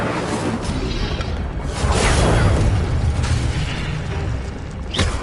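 Incendio fire spell cast in Hogwarts Legacy, a loud continuous roaring whoosh of flame that swells midway and ends with a sharp burst.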